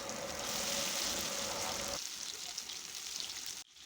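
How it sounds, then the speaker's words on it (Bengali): Chicken pakoras fry in hot oil with a dense, steady sizzle that fills the first half, then the crackle thins and quiets before cutting off. "বাকি যে পকোড়াগুলি আছে ওগুলিও আমি একটা একটা করে খুব ভালো করে লালচে লালচে করে সুন্দর করে ভেজে নেব"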